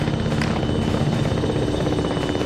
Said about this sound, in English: Yes, we're in danger close to this helicopter.